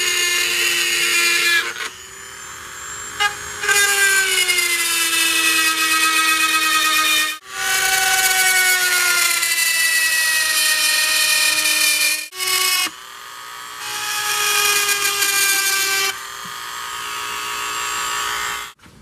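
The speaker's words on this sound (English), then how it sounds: "we have a little Dremel tool, and this has a cutter bit on it" A Dremel rotary tool fitted with a cutter bit whines steadily at high pitch while cutting through plastic trim during a trailer hitch install on a 2014 Range Rover Sport, pausing briefly several times between long cuts.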